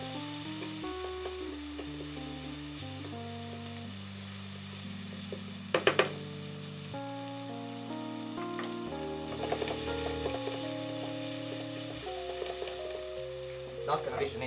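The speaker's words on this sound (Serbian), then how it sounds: "Sve sastojke koje pržimo u tiganju nećemo pržiti do samog kraja." Vegetables frying in a pan for an Italian frittata, a soft steady sizzle with a few sharp clicks, mostly under background music.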